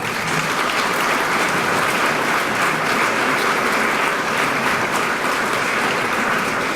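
Sustained applause from an audience at a Better Business Bureau awards ceremony, honoring board members: dense, steady clapping from many hands, loud and continuous throughout without a break.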